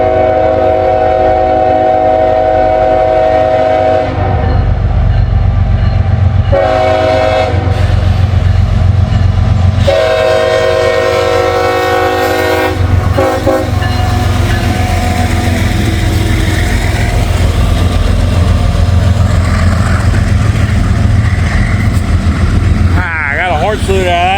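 CSX freight train passing in the rain, sounding several long, loud blasts of its horn over a rumbling, rattling roll of wagons that continues after the horn stops, with someone talking over it.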